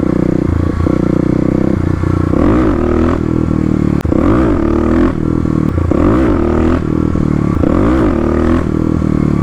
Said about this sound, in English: gonna try give the bike enough throttle, see if we can't get it to come up, and also not let off the throttle after dumping the clutch